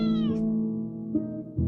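A cat meows in a long, clear drawn-out call, then gives two shorter, fainter meows, close and alone, as part of a children's story about the Ugly Duckling.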